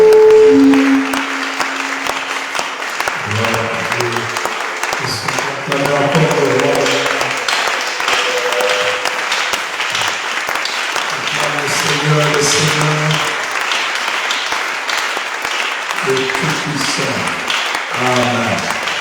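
A church congregation applauds the preacher with sustained clapping that runs the whole length, mixed with raised voices and tonal sounds, loud and close.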